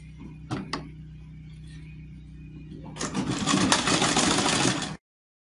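A sewing machine stitching the turned-up hem of an under-bust contouring blouse, a couple of faint clicks followed by a close, steady two-second burst of rapid mechanical whirring that stops abruptly.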